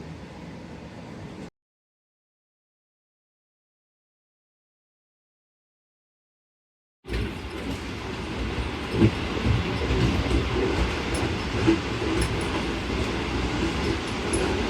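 Jaffer Express passenger train rolling away from a junction station, steady rumble and wheel clatter building loudly after a long silent gap, with faint rhythmic clicks over the rails and no talk.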